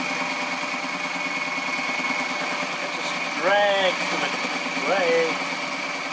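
A sewing machine stitches compound pleats in fabric aboard a sailboat, giving a steady, even mechanical hum throughout, with brief vocal sounds rising over it.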